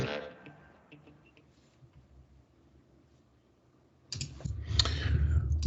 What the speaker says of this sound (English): clicking around too fast